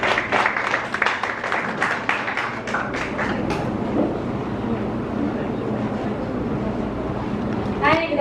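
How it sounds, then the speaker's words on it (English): Guests at a corporate bank event briefly clap for a vice president, a burst of scattered applause lasting a few seconds before fading into quiet room murmur. "Let's give her a round of applause."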